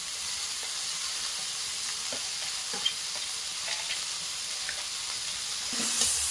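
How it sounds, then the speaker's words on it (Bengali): Drained, dried vermicelli (semai) is stirred into a frying pan with vegetables and a little oil for a vegetarian breakfast. It gives a continuous soft sizzle with scraping stir strokes, close and steady, with no voices. "সিমাইটা আমি জল ঝরিয়ে শুকনো করতে দিয়েছিলাম, সেটা এবার এর মধ্যে ঢেলে দেব"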